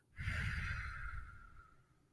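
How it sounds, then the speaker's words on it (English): One deep, slow breath is drawn in through the nose and released with a soft, fading exhale, close and quiet, with no talking. "taking a deep breath in through your nose, breathing in"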